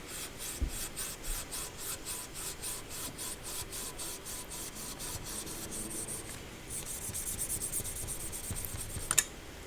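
A handsaw cuts homemade polyurethane brake pad material in quick, even back-and-forth rasping strokes, close and fairly soft. The pace picks up near the end before a sharp clack.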